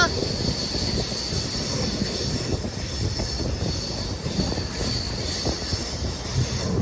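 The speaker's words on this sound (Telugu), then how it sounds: "ప్రస్తుతం మనం అయితే గోదావరి బ్రిడ్జ్ మీద అయితే ట్రావెల్ చేస్తున్నాం" The Janmabhoomi Superfast Express crosses the Godavari bridge, its wheels rumbling and rattling steadily over the span, with a high metallic squeal held above the noise.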